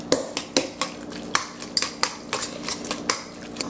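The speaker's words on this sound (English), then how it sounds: "mix it all together" Ground turkey and egg are mixed in a bowl, giving a quick run of sharp utensil clicks and scrapes against the bowl at a brisk, uneven rhythm, close up and with no talking.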